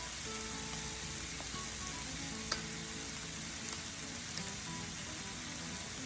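Onions pushed into marinade sizzle steadily in a hot pan as they are stirred, a continuous close crackling hiss with occasional soft utensil taps and no talking.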